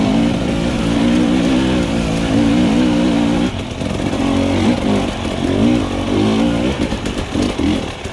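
A hard enduro motorcycle ridden along a wooded single track, its engine droning loud and close with continual revving and throttle blips as the bike works over the terrain.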